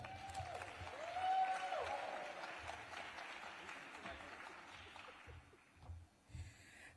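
Applause from a conference audience for a speaker at a transportation panel, a broad steady clapping that swells early then gradually thins, with a few voices and breaths near the end.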